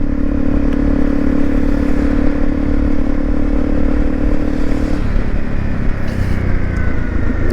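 A Honda CRF250 Rally motorcycle on a snowy road drones steadily under engine braking, its low engine note holding even and then dropping as it slows, with wind rush and light clatter.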